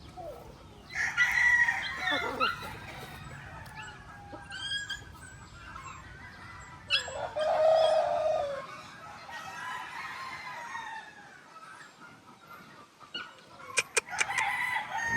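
Stag roosters, young game fowl at GTV Game Farm, crow repeatedly at close and middle distance, several overlapping cock-a-doodle-doos with softer clucking in between.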